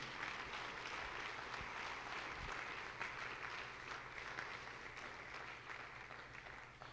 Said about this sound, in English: we're going to bring them out for a round of applause